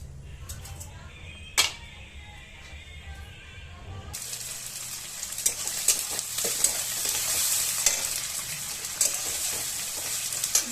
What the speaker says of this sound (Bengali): কড়াইতে তেল দিয়েছি, সরষে দিয়েছি, পেঁয়াজ দিয়েছি, কাঁচা ঝাল দিয়েছি। এটা ভাজা করছি।